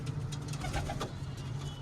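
Pigeons coo close by in a soft, steady, low murmur of repeated throaty calls over a constant background hum.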